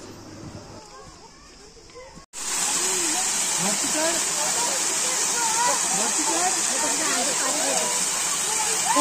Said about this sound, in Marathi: तर खाली झऱ्यासारखा त्यांनी पाणी सोडला होता.